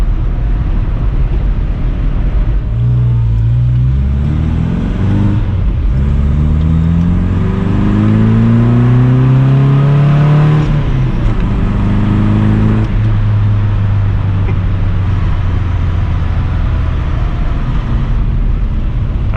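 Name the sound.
MG car engine while driving on tight roads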